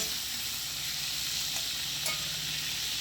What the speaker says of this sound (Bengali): এবার কড়াইতে লঙ্কা তেজপাতা আর জিরে ফোড়ন দিয়ে আমি আলু আর বেগুনটা ভালোভাবে নেড়ে চেড়ে নেব